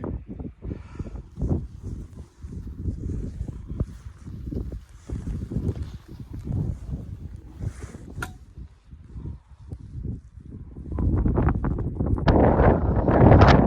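Strong wind batters the microphone on a hilltop overlooking a reservoir, loud irregular low rumbling gusts that swell even harder toward the end, with no one speaking.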